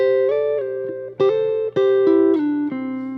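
Electric guitar Memphis soul-style double stops plucked with the fingers, pairs of notes ringing together, changing every half second or so, clear and close with no talking.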